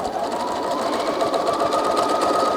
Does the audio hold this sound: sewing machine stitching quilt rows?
yes